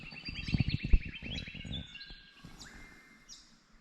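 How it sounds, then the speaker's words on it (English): Birds sing and chirp around a campsite in Sundown National Park, Australia, with several overlapping calls and whistles up close. The birdsong is clear and fairly loud early on, then thins out and fades toward the end. "enjoying a bit of serenity and some beautiful bird sounds"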